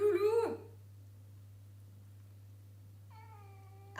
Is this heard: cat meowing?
yes